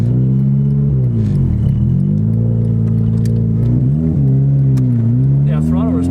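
A K24-swapped EK Civic hatchback with an off-set idle pulls hard on a street loop, its engine note steady and loud from inside the cabin, dipping and climbing through shifts, with faint talk in the background.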